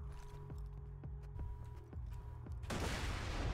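A grenade explodes in the game Borderlands 2: a few light ticking steps and clicks, then a loud, broad blast that swells and keeps roaring to the end.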